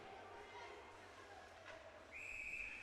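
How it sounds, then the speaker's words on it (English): A referee's whistle blows at a women's varsity ice hockey game, a sustained shrill tone starting late and holding to the end, loud over steady arena crowd murmur and a commentator's voice. "And a whistle."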